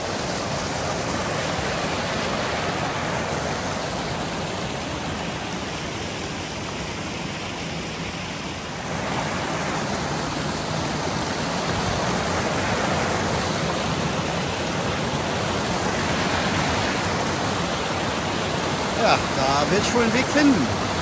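A mountain stream rushes steadily beside a hiking trail on the Stollenweg near Berchtesgaden in April, where a bridge is missing; broad, constant close-up water noise runs throughout with faint handling sounds near the end and no audible talk.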